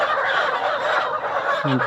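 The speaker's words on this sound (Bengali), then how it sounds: "আমাদের এক নাম্বার সেট থেকে মুরগি ডেলিভারি হচ্ছে" Layer chickens on a poultry farm during delivery, a dense flock chorus of clucking and squawking that fills the whole stretch at steady loudness, with one louder, nearer call rising at the end.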